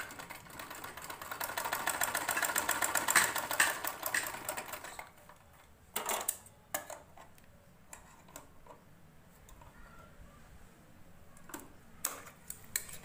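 Sewing machine stitching fabric onto a stick for a blouse latkan, a rapid ticking mechanical run for several seconds, then short separate bursts of stitching with quiet gaps between.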